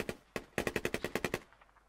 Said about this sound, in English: There was gunshot bearing 300 down the hill.